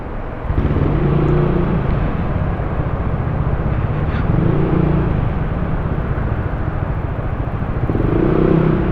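A motorcycle engine idles and runs steadily nearby, a loud continuous low rumble with slight swells in revving, starting abruptly after a brief moment and holding throughout with no talk.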